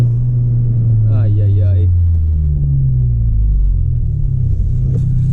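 A 10th-generation Honda Civic Si with a loud turbo and exhaust setup driving through a town, its low engine rumble and exhaust note echoing off surrounding buildings, close and steady, with a voice calling out briefly over it.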